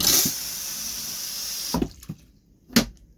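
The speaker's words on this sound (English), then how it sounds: "Toilet is very simple as long as you're pushing this pedal right on the side. It's going to continue to flush." Water rushes loudly into the bowl of a 2019 Forest River Wildwood 261 BH XL travel trailer toilet while its side foot pedal is held, then stops abruptly, followed by a few sharp knocks and clunks.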